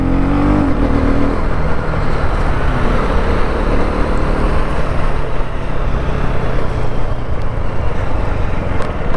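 A 2024 KTM Duke 250 motorcycle launches and accelerates in a loud, continuous engine roar that holds steady and close for several seconds, without any talking.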